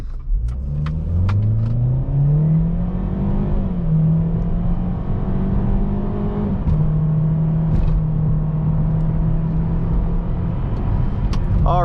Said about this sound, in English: We can do a nice little 0 to 60 pull right about here. I will put it in sport mode,